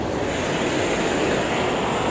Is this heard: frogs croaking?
no